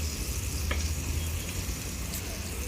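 Chicken frying in ghee for homemade KFC-style fried chicken gives a steady, broad sizzle with a low hum underneath and one brief crackle near the middle.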